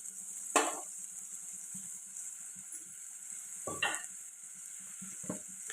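Tomato puree fries in a pan for an egg curry, a quiet simmering hiss broken by a few scattered spoon scrapes and stirs.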